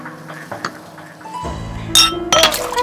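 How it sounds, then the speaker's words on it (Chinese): Glasses clink together in a toast among several people at a table, with a couple of bright, sharp chimes near the end ringing out over faint room noise. "咱们几个还没碰过杯吧？ 来，碰一个吧。"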